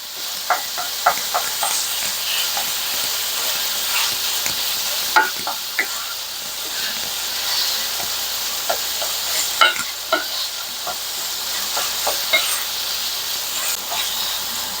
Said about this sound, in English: Now I'm going to give this a stir and also break up the larger pieces.